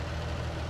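Renault Atlas 925RZ tractor, 226 horsepower, idling at a farm: a brief, steady low engine rumble with a faint knocking texture, close and alone, no voices.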